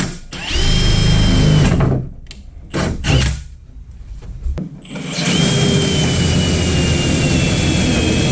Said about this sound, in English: we're gonna put a 3-inch hole in this hood, hopefully in the right spot,